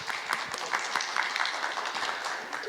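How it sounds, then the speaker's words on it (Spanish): An audience at a live evening music show with Andean guitar performers claps in a steady, moderately distant patter of many hands that holds at an even level throughout. "como motivación, esas palmas para Sebastián."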